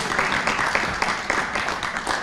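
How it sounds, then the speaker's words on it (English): An audience at a conference applauds, a brief burst of many hands clapping in a hall, fairly dense and moderately loud. "Please, a round of applause for a great friend"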